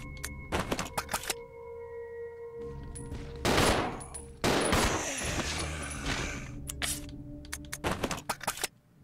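Gunfire in the video game Resident Evil 0 HD: bursts of rapid automatic shots and loud blasts, some sustained for over a second, mixed with clanks and game sounds, dense and close throughout.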